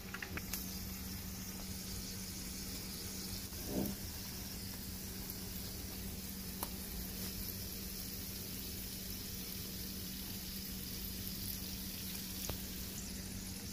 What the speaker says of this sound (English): So our oil is ready. I just went in with some onion just to make it flavorful. So we are going to start dropping our buns in.